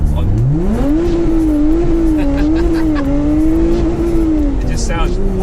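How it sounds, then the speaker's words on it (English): A V6 sports car engine revs hard during a fast hot lap at Goodwood, the pitch climbing and holding a strained, steady howl with faint tire noise, heard from inside the car while voices talk over it. "that was probably one of the best sounding V6s currently on sale"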